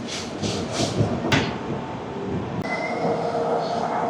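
Shatabdi Express train pulling into Kishanganj station in Bihar, with steady rolling rumble, a couple of sharp clanks and a thin wheel squeal toward the end, heard from inside the coach.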